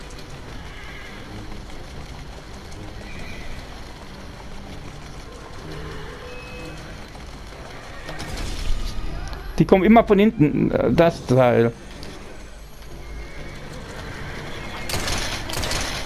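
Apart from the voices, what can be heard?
horse neighing and galloping in a video game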